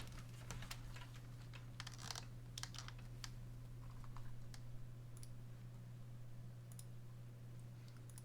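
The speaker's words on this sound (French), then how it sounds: "Je prends le clavier, attends." Keys clatter on a computer keyboard in irregular bursts of quick clicks, faint and close, over a steady low electrical hum with no voices.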